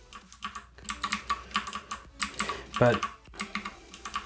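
Fingers typing on a mechanical keyboard with bronze clicky switches, a quick, uneven run of close crisp clicks and clacks, with a brief spoken word partway through.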